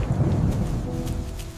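Thunderstorm in a cartoon: a deep rolling rumble of thunder under a steady wash of heavy rain, loud and continuous with no voices.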